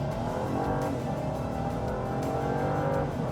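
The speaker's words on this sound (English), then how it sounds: "You do get some of that V6 induction noise." A Genesis GV70 Sport Prestige V6 engine revs under hard acceleration, a throaty induction roar building steadily with no one speaking.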